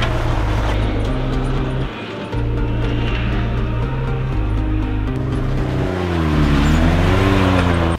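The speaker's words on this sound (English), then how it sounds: "So we got a car coming in right now." A car drives in and idles nearby at a bowling setup for a Can-Am challenge, its engine a steady, loud drone with rising pitch as it accelerates near the end.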